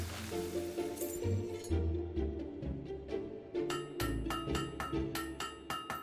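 Metallic hammer strikes ring out on a blade at a forge in Fable 3, starting irregularly and then settling into a quicker steady series of bright clinks over low background music.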